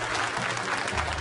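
Colleagues applauding the departing prosecutor general at his farewell, a brief, dense burst of steady clapping from a gathered group, fairly loud and continuous.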